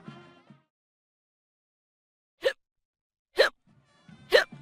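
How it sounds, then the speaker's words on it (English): Three quick cartoon-style hiccup effects in a children's rhyming read-aloud, sharp and bright, separated by short pauses, with a narrator's voice before the first and underneath the last. "But then, oh no, a little hic! Another came and one more quick."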